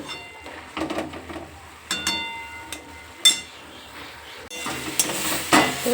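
Jute leaves frying in a pan, stirred with a utensil that scrapes and clinks against the metal in uneven bursts, while a soft sizzle builds and grows steadier toward the end.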